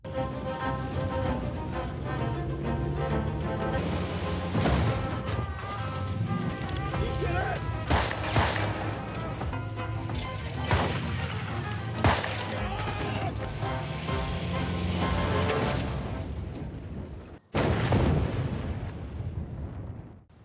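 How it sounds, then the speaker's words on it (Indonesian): Gunfire exchange in the Indian film Thar, with repeated sharp shots and bursts over dramatic music and noise, loud and close, with a brief cut of silence near the end. "Saling adu tembak pun terjadi."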